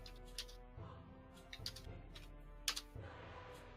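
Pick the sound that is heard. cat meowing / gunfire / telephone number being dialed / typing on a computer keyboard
typing on a computer keyboard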